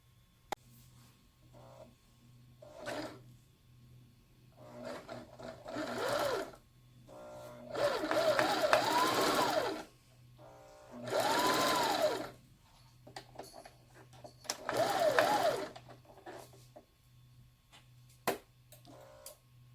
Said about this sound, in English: show you how to sew it directly into fabric